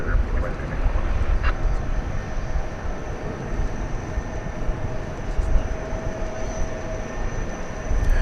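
A Boeing 757 departing DFW Airport gives a steady, broad roar of jet engine noise, continuous and fairly loud throughout, heard from a distance with a faint whine on top.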